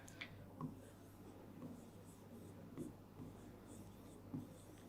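Marker or chalk writing on a board in a classroom lesson, a steady faint scratching with a few soft taps at stroke ends, close and low in level under a quiet room hum.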